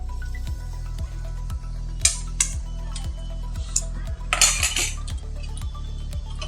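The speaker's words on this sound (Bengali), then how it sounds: "সব কিছু ভালোভাবে একটু মিশিয়ে নিচ্ছি।" Pulao ingredients with egg, shrimp and fried onions are stirred in a pot, with clinks and scrapes of a metal spoon over a steady low mechanical hum, plus a few louder wet stirring bursts.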